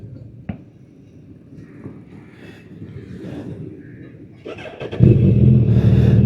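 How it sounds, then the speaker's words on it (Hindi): Suzuki Hayabusa motorcycle engine cranking and firing up, then settling into a loud rumbling idle with a rev, after a few quiet clicks and handling noises. "बस बाइक स्टार्ट करके निकलते हैं"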